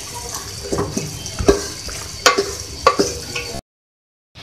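Dal mash with garam masala stirred in a cooking pot: scraping, clattering strokes with soft sizzling underneath, several sharper knocks of the spoon against the pot, then a sudden cut to silence near the end.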